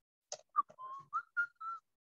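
A man whistles a short, cheerful tune alone, several distinct notes in a quick sequence, some brief and chirpy, others held a little longer, close and fairly soft with no talk over it.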